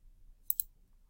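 Two quick, sharp computer mouse clicks close together while working in CAD software, crisp and fairly quiet against a faint low background hum, with no talking.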